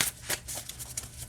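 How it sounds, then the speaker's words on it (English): A tarot deck is shuffled close by, quick papery riffles and soft card slaps in a short burst, fairly quiet with no voice. "it feels really good to shuffle. It's a nice size, and it shuffles nice this way too."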